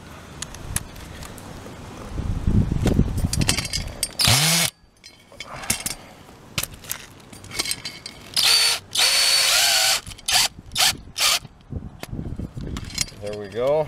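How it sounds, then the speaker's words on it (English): A power drill drives screws through a home roof while a grounded HDTV antenna mount is installed, putty squeezing up around them; several loud, close bursts of drilling come in short runs with clattering handling noise and pauses between. "Now I'll put in the screw in the bottom."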